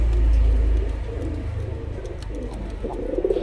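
Pigeons coo softly in a corner of a pigeon collection, a low burbling under a rumbling background with faint clicks and movement.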